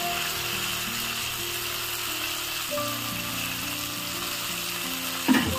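Tomatoes and okra for bendakaya pachadi (okra chutney) sizzle quietly in a pan with rock salt, a soft continuous fry hiss carrying on with a single sharper knock near the end.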